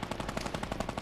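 Rapid automatic gunfire from a Fortnite battle royale match, a dense burst of evenly spaced shots rattling loudly and continuously with no talk over it.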